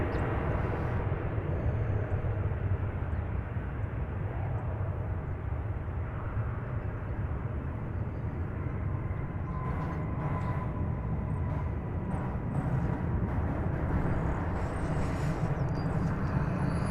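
A passenger airplane arriving from Austin, Texas, at DFW Airport rumbles in a steady, broad roar that holds for the whole stretch with no voices.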